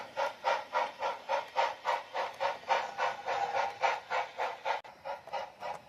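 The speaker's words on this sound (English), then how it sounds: "we are going to have to shove this train down" A steam locomotive in a video game chuffing in a steady rhythm of regular puffs, close and loud, with a brief dip near the end.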